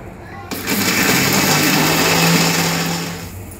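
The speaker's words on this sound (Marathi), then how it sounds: "आता आई वाटण वाटून घेते." A kitchen grinder whirs loudly and steadily while grinding a spice paste with cumin and coriander, starting abruptly and running for about three seconds before winding down.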